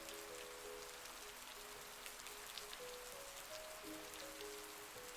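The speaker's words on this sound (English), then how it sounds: "Only the rain pounding on the car and windshield wipers whooshing to keep them from having to say anything." Rain pounds steadily on a car roof and windshield, a dense, even hiss of drops that stays constant throughout, with faint sustained musical tones underneath.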